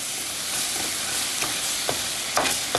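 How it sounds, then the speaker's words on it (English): Potatoes and onions fry in a stone-coated skillet, sticking a little as they are pushed around; a dense, close sizzle runs throughout with a few scraping stirs near the end. "Potatoes are sort of sticking to the skillet a little bit. I have to keep, look at this, the onions too."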